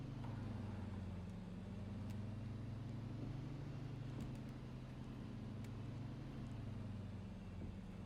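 A Beaver floatplane taxis on water in a flight simulator game. A faint, steady low engine hum drones evenly throughout, alone and without talk.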